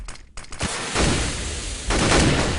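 Gunfire in a Counter-Strike match at a 2013 esports tournament, with a short burst of shots followed by louder sustained firing near the end, no talk.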